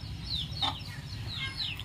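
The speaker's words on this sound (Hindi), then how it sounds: "हमारा असील मुर्गा बाहर आ गया।" An Aseel rooster clucks outdoors in a steady run of soft, close calls, with brighter bird chirps overhead and no talking.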